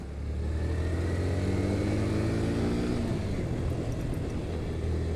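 A Yamaha FZS V2 motorcycle engine drones steadily while riding fast on a rural road, its pitch rising slightly as it accelerates, with constant wind rush around it.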